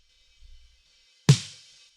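A single dry snare drum hit from the original drum recording, with the trigger muted, cracks out sharply after a moment of near silence, its short ring fading quickly.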